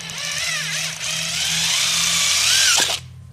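A power drill whirs steadily at close range while drilling small holes in a 2-inch plastic cap, its pitch dipping briefly as it bites, then spinning down abruptly near the end.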